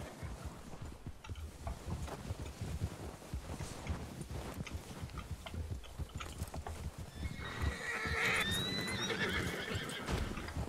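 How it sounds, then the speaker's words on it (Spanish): A horse in the Western video game RedM galloping with rhythmic hoofbeats, then letting out a clear whinny, steady and moderately close against light wind. "No sabía yo que su caballo saltaba tanto"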